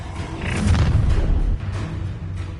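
A fiery Incendio spell is cast in the Hogwarts Legacy video game: a loud, roaring burst of flame with a deep rumbling boom that swells, then drops away into a softer crackling tail.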